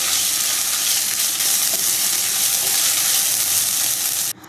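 A loud, steady sizzle of ginger garlic paste frying in a hot pan, continuous throughout with occasional stirring, then cutting off abruptly at the end.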